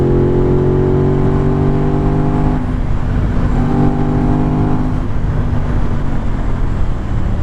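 Aprilia RS660 motorcycle engine running steadily and loud throughout, a continuous droning tone that shifts pitch partway as the rider changes revs, with strong wind rush.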